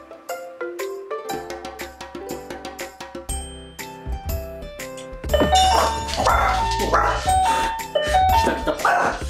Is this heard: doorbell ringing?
yes